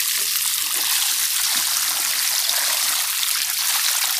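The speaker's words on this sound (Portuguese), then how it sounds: "vou jogar aqui um pouco de água, um regador de água" Water poured from a watering can onto freshly planted, already damp soil, a steady hissing, splattering stream held at an even level throughout with no talk.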